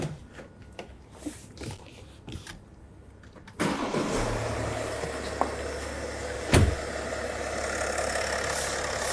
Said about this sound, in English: we'll start the vehicle up and start collecting data